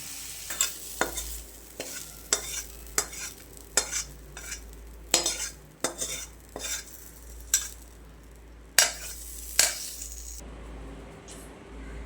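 Food frying in a pan is stirred with a utensil, sharp scraping clinks landing at an irregular pace over a faint, steady sizzle, close and quiet.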